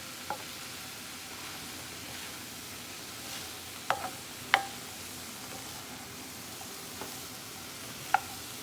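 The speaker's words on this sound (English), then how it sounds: "All my vegetables are getting tenderized and starting to caramelize just a little bit" Mirepoix vegetables sautéing and caramelizing in a pot, a steady soft sizzle with a few faint clicks and utensil taps scattered throughout.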